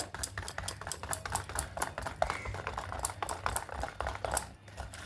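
Red wheat flour being worked into a wet batter by hand, giving soft, irregular squelching and slapping taps, close and steady, with no talk over it.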